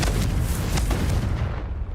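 A Confringo spell explosion in Hogwarts Legacy: a loud, close blast with a booming low rumble that fades over about two seconds.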